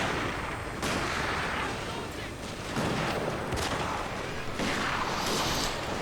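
Gunfire from an enemy gun tower in the Total War: Shogun 2 Fall of the Samurai video game, a dense, continuous roar of repeated shots and booms filling the clip, loud and close throughout.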